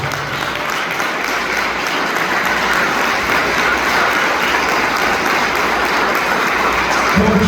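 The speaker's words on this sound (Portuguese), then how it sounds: "Pode aplaudir o Senhor de forte." A church congregation applauding, dense sustained clapping that fills the room loud and steady for several seconds without any talk.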